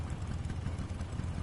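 Boat engine idling in the Metal Gear Solid Delta video game, a steady low rumbling drone with a faint vibrating texture, holding level and close throughout with no speech over it.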